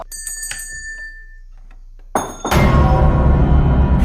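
A few bright metallic bell chimes ring out over a low hum, followed by a sudden loud rush of dense noise.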